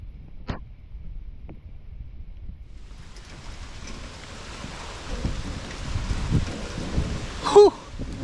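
Steady rain pours down outdoors near a tree line during a thunderstorm, a broad hiss building after the first few seconds with low rumbling beneath and a sharp louder burst near the end.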